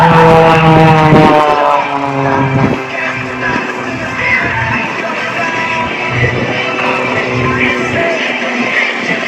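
A two-seater propeller aircraft flies at the AERO Gatineau-Ottawa airshow, its engine droning loud and close with shifting pitch as it maneuvers, then easing into a steadier roar.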